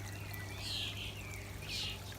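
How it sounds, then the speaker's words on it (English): Adjustable waterfall on a Cove Jubilee 36-jet all-seater hot tub running on slow speed: a soft pouring trickle of water with gentle splashing surges, faint and close, over a low steady pump hum. "we have got adjustable waterfall, which is adjusted using this. It's run on speed 1 at the moment, or it's slow speed"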